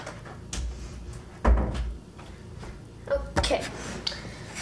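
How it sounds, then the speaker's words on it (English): Office door pushed shut, with a thump and soft knocks and clatter around it, heard nearby in a quiet room without voices. "I'm gonna close the door."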